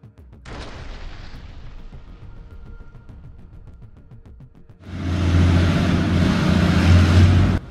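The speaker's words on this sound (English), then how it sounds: "This is how the precision artillery strikes were reflected on the objective camera." Precision artillery strikes on a position near the village of Ivanopil: a sharp distant boom opens into a long rumbling tail, then a heavy, loud roaring blast surges in and holds, with no talk.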